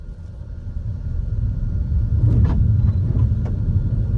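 A BYD Atto 3 accelerating on an open road after traffic clears, heard from inside as a steady low rumble of road and tyre noise that swells slightly, with a few faint clicks.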